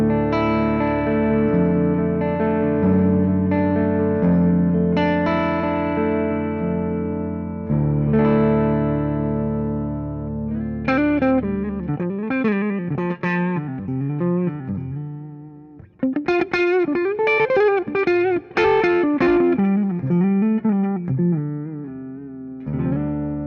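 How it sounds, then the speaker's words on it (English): Clean electric guitar on the neck pickup in drop D tuning, an Aristides 060 with a non-wood body, warm, bassy tone and light reverb, first sustained chords, then a run of picked single notes and chord stabs played alone. "let's check out the guitar with this clean tone"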